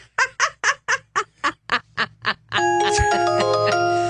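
A run of about ten evenly spaced, loud, nasal honking tones, followed by a sustained ringing chime, heard on an airport train platform near the main concourse as the train arrives, with no talk over it.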